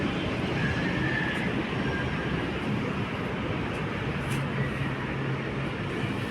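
An LRT light rail train rumbles past near Lawton in Manila, a steady roar of wheels on track, a faint squeal rising briefly over the continuous rolling noise.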